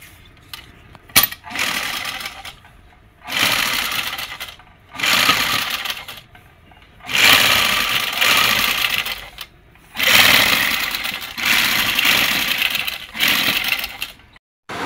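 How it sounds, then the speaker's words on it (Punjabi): A sewing machine stitches a double seam on a girl's frock, running in a series of bursts of steady mechanical whirring separated by brief pauses, loud and close with no talking. "ਇੱਥੋਂ ਆਪਾਂ ਹੁਣ ਇੱਧਰ ਨੂੰ ਮੋੜ ਲਾਂਗੇ, ਡਬਲ ਸਿਲਾਈ ਲਾਵਾਂਗੇ ਇਹਦੇ ਉੱਤੇ"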